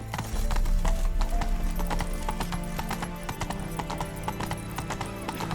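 A horse gallops steadily in The Witcher 3: Wild Hunt, with rapid rhythmic hoofbeats close up over a continuous game soundtrack and ambience.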